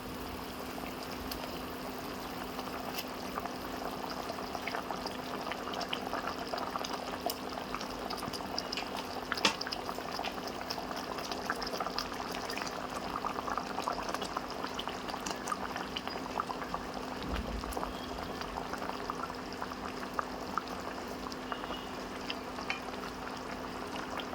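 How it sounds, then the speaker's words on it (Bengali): Rohu fish pieces simmering in a spicy gravy in a pot: a quiet, steady bubbling and soft popping that carries on without pause, with no talking. "এবার এই গ্রেভির মধ্যে একটা একটা করে আমি মাছের পিসগুলো দিয়ে দেবো।"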